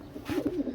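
A pigeon in a rooftop loft gives a brief, soft, low coo with a rolling, warbling rise and fall, quiet against faint background noise.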